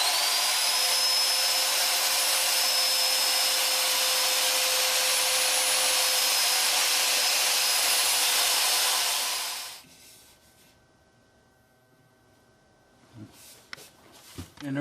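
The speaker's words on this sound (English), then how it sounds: "I'll be using this angle drill." A high, steady whirring of an angle drill sanding a wooden lid runs for about ten seconds, then cuts out, leaving near silence with a few soft knocks at the end.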